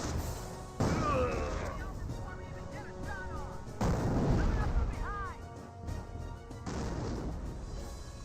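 Landmine detonation and other battlefield blasts in the World War II strategy game Company of Heroes: several heavy booming explosions at intervals over continuous rumbling combat noise, with faint voices and tonal sounds in between.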